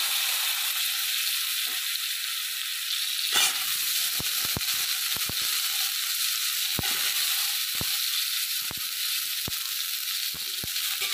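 Eggplant pieces fry in oil in a wok, giving a steady, close, loud sizzle throughout, broken by a series of sharp clicks and taps from a utensil.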